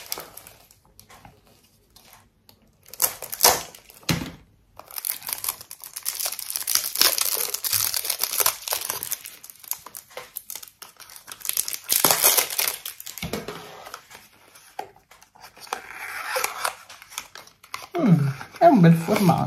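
Packaging of a 40 ml Sinox Anti Dark Spot face cream being opened: bursts of crinkling, crumpling plastic and paper rustle come and go at close range, with quieter handling pauses between them.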